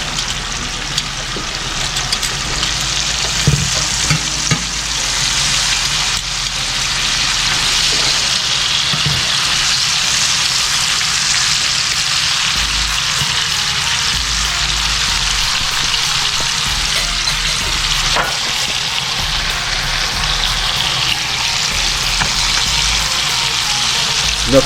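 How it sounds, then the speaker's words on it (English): Steady, dense sizzling of bacon frying in butter in a pan, a continuous crackling hiss that holds level throughout, with a few faint clicks and pops. "we want to cook the bacon in the butter"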